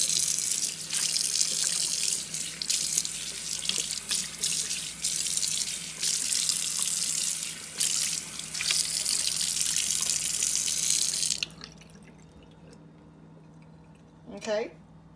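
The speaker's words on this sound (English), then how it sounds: "Now let's rinse this one." Tap water runs steadily into a white cast iron sink for a rinse, a loud broadband splash that stops abruptly near the end, followed by a short spoken remark.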